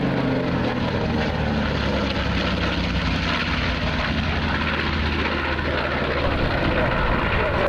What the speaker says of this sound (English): B25 Mitchell, like the one flying past there with the Corsair in close company